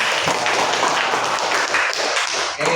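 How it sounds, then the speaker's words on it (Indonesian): A class of students claps for a classmate, giving dense, steady applause of many hands that carries across the whole moment. "Tepuk tangan untuk Bata."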